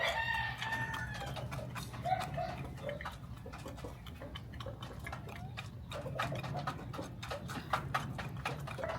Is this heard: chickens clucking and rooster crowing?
yes